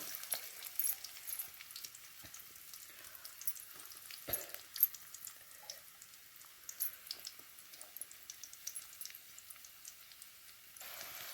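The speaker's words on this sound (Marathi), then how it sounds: "कांदा परते कांदा परतून होते" Quiet, continuous crackle of onions frying in oil, a faint fizzing hiss with scattered small pops throughout.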